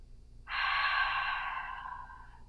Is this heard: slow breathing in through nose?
yes